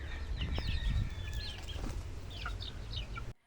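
Chickens and chicks on a game farm: repeated high chick peeps and hen clucks close by over a low rustling background, ending abruptly in silence.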